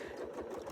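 A quilting sewing machine hums steadily as it stitches along a ruler, a brief soft mechanical whir with no talk.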